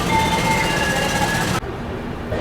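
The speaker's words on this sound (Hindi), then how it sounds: "स्किप कर रही है अपनी ट्रेन यशवंतपुर जंक्शन" The Palace Queen Humsafar Express, drawn by a diesel locomotive, pulls out of Yesvantpur Junction with a loud, close rail rumble and tonal whine that cuts abruptly to a quieter, duller roar.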